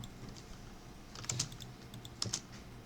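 A computer keyboard tapped quietly while drafting in CAD, giving two soft, close key presses over a faint steady hum.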